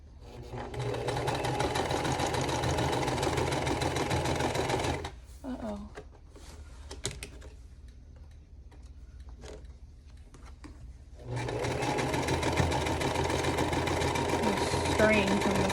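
Domestic sewing machine stitching a quilt block, a steady close whirring drone that runs for several seconds, stops for a quiet gap with small handling sounds, then starts again.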